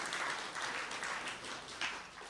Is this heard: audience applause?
yes